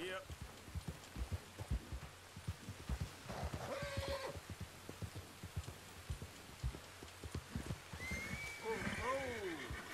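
Arabian horse in Red Dead Redemption 2 snorting and giving a wavering whinny near the end, over a steady run of hoof thuds; someone talks in places.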